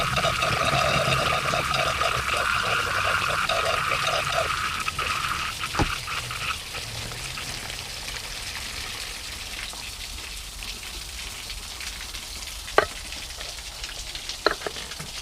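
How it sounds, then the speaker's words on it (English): A venturi tube pulls air and water up from a bucket with a continuous bubbling, gurgling hiss, loudest at first and then thinning, broken by a few sharp clicks and drips near the end. "the end of the tube on the suction end of the Venturi is sucking in air"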